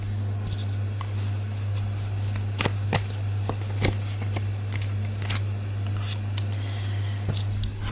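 A deck of tarot cards is shuffled by hand in a steady run of quick riffling and sliding card noises over a constant low electrical hum, with a few sharper slaps standing out.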